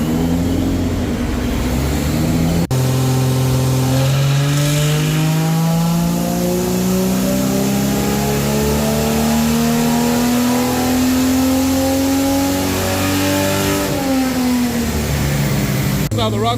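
A 245 Hemi fitted with an Edelbrock 650 carburetor on a four-barrel manifold, built to E49 spec, revs loud and close, its pitch climbing steadily through one long run and then dropping back, with voices talking over it.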